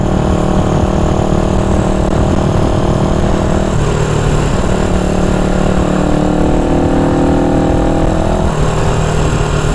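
A 1974 Honda CB360 motorcycle cruising in sixth gear drones with a loud, steady engine hum and heavy wind roar, smooth and continuous without stuttering, recorded from on the bike.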